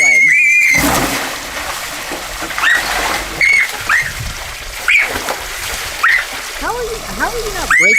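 People plunge down a steep water slide into shallow water, with splashing and rushing water under high, repeated squeals and shouts, loud and close throughout.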